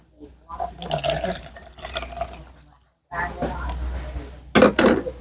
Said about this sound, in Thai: กรองคั้นเอาน้ำทีนี้